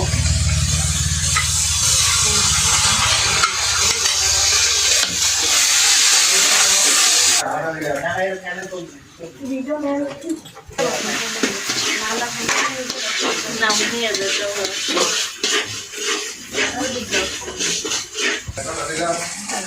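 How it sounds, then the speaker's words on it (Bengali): Spice paste with bay leaf fries in a pan during cooking for a wedding reception feast, starting with a loud, close sizzling hiss, then scraping and stirring clatter continuing under a woman's speech. "মশলাটা ভেজে নিলাম।"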